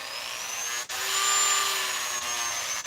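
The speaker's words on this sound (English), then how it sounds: "And this is an old one. It's a model 395 Dremel." An old Dremel model 395 rotary tool whines at high speed, a steady tonal buzz that briefly drops out twice as the motor dips, close and fairly loud with no talk.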